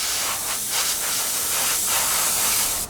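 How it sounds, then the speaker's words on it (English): Steady airbrush spray hiss as a Tamiya 1/48 Supermarine Spitfire Mk.I instrument panel is painted, a continuous close, loud airy rush with slight pulses, no voices. "spray this the colour we need to."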